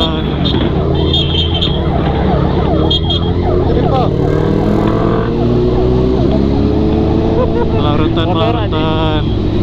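An ambulance siren wails through congested traffic on a road near Lembang, rising and falling tones over loud motorcycle engines and traffic noise, with people talking nearby.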